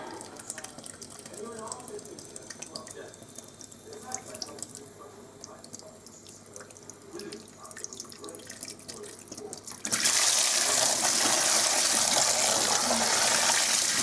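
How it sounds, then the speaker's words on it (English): A kitchen tap that sometimes sticks is suddenly opened, and fresh water gushes loudly into a sink in a steady, close rush that lasts to the end, during a squid tempura and fries cook; a quieter, muffled stretch comes before it. "just gonna add some more water, some fresh water"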